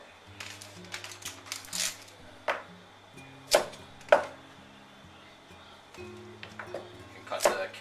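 A knife cuts carrots julienne style on a cutting board for Korean spicy chicken: a run of sharp, close chopping knocks in irregular bursts over quiet background music.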